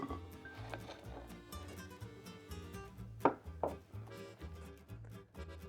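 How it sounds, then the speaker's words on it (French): Pitted Medjool dates being cut into small pieces with a knife on a board: a steady series of crisp chopping taps, some closer together, under faint background music, with no talk. "vous pouvez les couper en petits morceaux."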